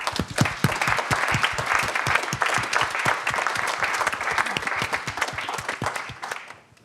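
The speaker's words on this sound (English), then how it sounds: "can we also just give a round of applause to the team who helped pull everything together?" An audience at a foresight launch event claps for the organising team: dense, loud applause from many hands, sustained for several seconds before tapering off at the end.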